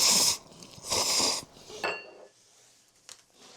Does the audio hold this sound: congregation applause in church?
no